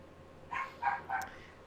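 A dog barks three times in quick succession, faint and somewhat distant, with a low background hum beneath and no talk.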